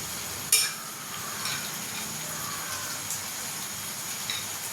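Onions are stirred in a pan while frying, as part of making a spiced fried chicken dish. A continuous hissing sizzle fills the scene, broken by a sharp utensil clink and a few soft scraping stir strokes, with no speech.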